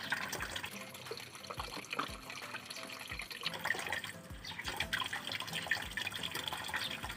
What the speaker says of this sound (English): Thoroughly wash and rinse the hand.